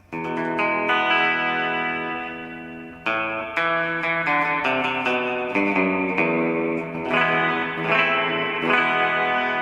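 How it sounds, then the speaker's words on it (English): An electric guitar played through effects pedals into a Fender Tone Master Twin Reverb amp rings out with distorted, chorused chords and sustained notes, loud and continuous with brief breaks between phrases. "The point of me running through these pedals is to see how the Tone Master Twin Reverb takes them"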